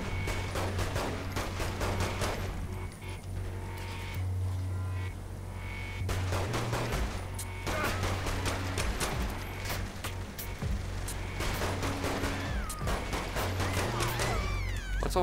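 Rapid shotgun and pistol fire sounds almost without pause in Saints Row 3 horde mode, loud and dense over a steady game soundtrack and effects.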